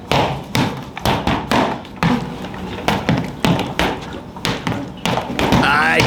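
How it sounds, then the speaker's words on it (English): Irish fighting stick strikes land as a rapid series of sharp, close thuds and taps in an irregular rhythm, each hit loud and percussive, with no talk over them. "Especially if you're hitting with a stick."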